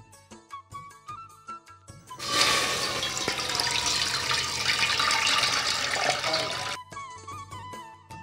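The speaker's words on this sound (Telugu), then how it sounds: "దాంట్లో కాస్త నీళ్లు పోయి" Water runs steadily from a tap into a cooking pot for several seconds, a loud continuous gush that starts abruptly and cuts off, with clinking kitchen sounds before and after, during preparation of jaggery paramannam.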